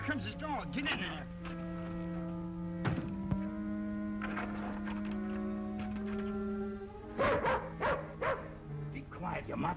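A dog in an old western TV scene barks and whimpers in scattered yips and short whines, near and clear over a constant low hum and musical score, with a busier cluster of barks near the end.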